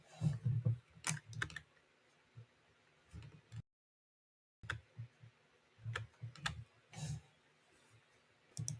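Keystrokes on a computer keyboard come in quick irregular bursts of clicks, close and fairly quiet, with a brief silent gap midway and no talking.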